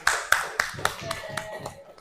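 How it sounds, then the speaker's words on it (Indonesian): A classroom group claps briefly for the winning team during a values and norms lesson, a short run of sharp hand claps with a voice or two under it. "Tepuk tangan dong."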